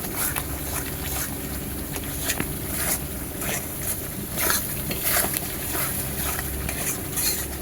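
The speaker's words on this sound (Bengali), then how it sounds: "এবারে মশলাটাকে ভালো করে কষাতে হবে" Spice masala with turmeric, chili powder, sugar and salt stir-fried in a pan for a raw jackfruit yogurt curry: continuous sizzling hiss under repeated scraping strokes of a spoon, close and steady, no voices.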